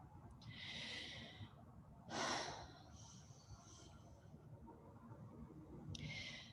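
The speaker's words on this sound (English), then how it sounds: "Just take a few breaths here." Deep, slow breaths taken during a guided relaxation, several soft breathy exhalations and inhalations spaced a couple of seconds apart over a quiet room background.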